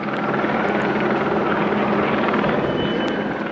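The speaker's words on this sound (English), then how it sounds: "a media helicopter was hovering overhead" A media helicopter drones steadily overhead, a constant rotor thrum at moderate distance with no other sounds.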